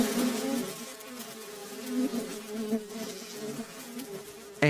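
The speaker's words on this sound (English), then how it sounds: "you can hear just a room over this horrifying crackling buzzing sound." Harsh crackling insect-like buzzing drones steadily from the next room over, a dense swarming hum with slight swells, unbroken and close enough to fill the space, ending in a sudden louder burst.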